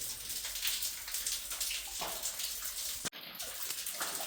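Water is drained from a swimming pool, a faint, steady rushing hiss with light splashing. Near the end it breaks off with one sharp click.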